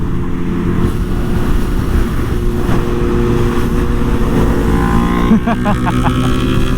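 A Kawasaki ZX-4RR motorcycle running with its engine warning lights on, ridden on the road toward Paris, gives a steady, close engine drone with wind rush that holds level throughout.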